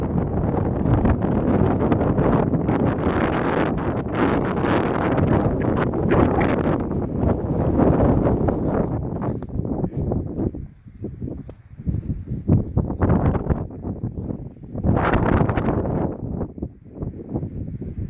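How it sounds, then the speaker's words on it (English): Strong wind buffeting a microphone outdoors at a rock formation in west central Kansas, loud roaring gusts that ease and return, with no voices. "Still windy."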